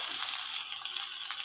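Crushed ginger fries in hot oil in a pan, a steady, close hissing sizzle that stays even throughout, ending in a brief clink.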